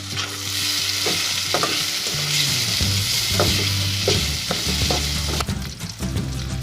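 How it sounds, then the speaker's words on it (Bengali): Chopped tomatoes and garlic stirred and frying in a pan for vegetable noodles, with a loud steady sizzle and hiss under repeated scraping and clacking strokes of a spatula. "রসুন দিয়ে এক মিনিট ভেজে নেব এখন দিয়ে দিচ্ছি টমেটো কুচি ভালো করে মিশিয়ে দিচ্ছি"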